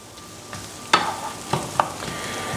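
A medium diced onion frying in a pan gives a steady, soft sizzle, broken by a few sharp scraping stirs near the middle of the clip.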